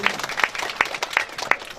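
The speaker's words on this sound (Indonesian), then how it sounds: "tepuk tangan buat masyarakat yang ini" Sparse applause from a village community gathering at a TNI Manunggal development event in Tehoru, Masohi, with a handful of distinct loud claps standing out over a thin patter of hands.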